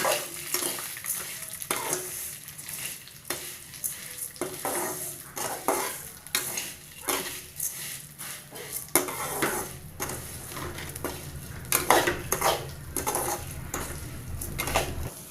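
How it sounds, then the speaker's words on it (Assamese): Food sizzles in a pan while a utensil stirs and scrapes in frequent, uneven strokes, close and fairly loud, with no talking. "এইখিনি মই অলপ দেৰি ৰঙা হোৱালৈকে মই ভাজি থাকিম।"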